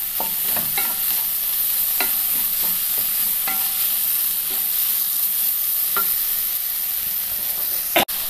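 Tomatoes for a chicken curry sautéing in a pan over medium flame, a steady close sizzle with repeated light clicks and scrapes of stirring, and a sharp knock near the end.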